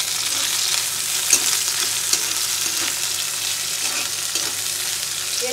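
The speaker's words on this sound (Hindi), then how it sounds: "ये जब तक फ्राई हो रहा है" Tindora (ivy gourd) fries in oil in a pan for tendli sabji, giving a steady, close sizzle with a few light clinks of stirring.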